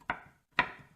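A knife chops walnut halves on a board with two sharp, separate thuds about half a second apart, close and clear.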